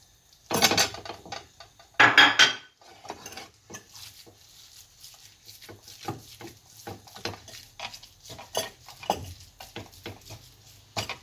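A pan with three spoons of oil and 300 grams of minced meat, and sharp metal clatters and a loud sizzling rush near the start, then lighter scraping and clinking of utensils against the pan.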